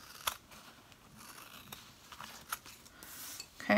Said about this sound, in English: I'm just gonna cut down.